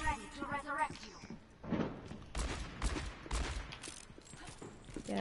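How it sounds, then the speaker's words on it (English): Fireworks go off nearby at a civic center, a series of sharp irregular bangs and crackles mixed with loud talk and game sounds. "they're doing fireworks at the Civic Center"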